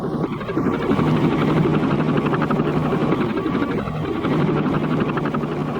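A helicopter flies close by during the Vietnam War siege of Khe Sanh, its rotor thudding in a fast, steady chop over a roaring engine.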